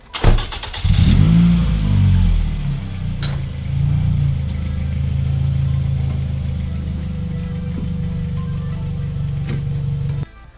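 A car engine starts with a loud burst of revving, then settles into a steady low rumble as the car drives down off ramps in a garage, running close and continuous with a few sharp clicks on top.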